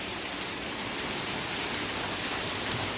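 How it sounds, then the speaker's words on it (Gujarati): Heavy continuous rain pours steadily in Junagadh during the morning, a dense, even hiss of water with no let-up, filling the whole space without voices. "સવારથી એક ધારો આજે જૂનાગઢમાં વરસાદ પડી રહ્યો છે"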